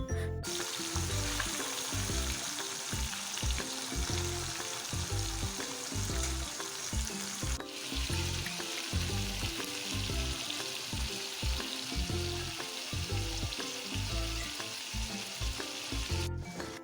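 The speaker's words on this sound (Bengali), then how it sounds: "একসঙ্গে অনেকগুলো মাছ দিয়েছিলাম এবং আস্তে আস্তে হালকা হাতে সেগুলোকে নেড়ে চেড়ে ভেজে নেব" Many fish shallow-frying in hot oil, a steady dense sizzle filling the whole stretch with soft occasional stirring, close and even throughout, no voices.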